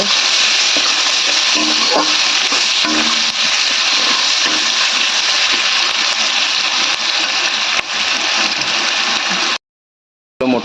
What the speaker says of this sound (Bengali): পেঁয়াজগুলোকেও খুব ভালো করে ভেজে নেবে